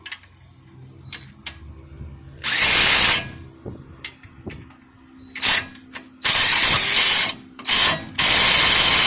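A DeWalt cordless drill whirs in several short bursts and a few longer runs, close by, driving bolts on a Nissan D21 Hardbody pickup's front brake calipers, with clicks and small clanks of metal between them.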